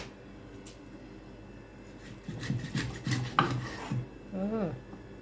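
A knife rasps and chops through fish being cut for curry in close, faint, irregular strokes, with a few soft clinks and a brief voice near the end.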